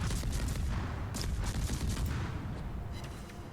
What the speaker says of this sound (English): I could try a bit of burst fire on this now